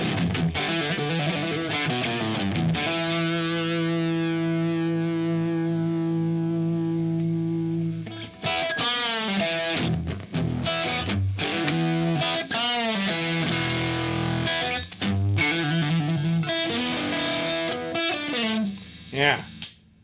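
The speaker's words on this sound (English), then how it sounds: "That's some good vintage Strat sound" A prototype electric guitar with a vintage Strat tone, played on the bridge and middle pickups, rings out a long, loud, overdriven chord, then breaks into choppy riffs and quick chord stabs through the effects.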